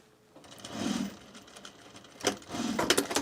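A sewing machine stitches a garment duffle bag in two short, rapid bursts of mechanical whirring and clatter, close and fairly quiet, separated by a brief pause.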